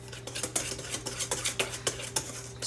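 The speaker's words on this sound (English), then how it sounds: "So I'm going to whisk that together real quick." Metal whisk rattling quickly against a bowl while mixing dry scone ingredients for petite vanilla scones, a fast run of close, bright clinks and scrapes with no talking.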